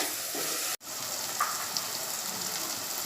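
Chopped onions and tomatoes fry in a pan, a steady soft sizzle and crackle with a brief dropout near the start, then continuing evenly with no voices.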